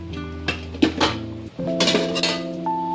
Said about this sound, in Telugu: మూత పెట్టేసుకున్నాం, కాసేపు ఉడకనిద్దాం.